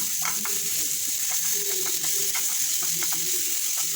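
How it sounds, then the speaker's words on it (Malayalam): Onion and two green chilies frying in oil for a curry, with steady close sizzling and a string of light spatula scrapes and stirs throughout. "അതിലേക്ക് 2 പച്ചമുളകും ചേർത്തിട്ട് നന്നായിട്ട് ഇളക്കി കൊടുക്കുക"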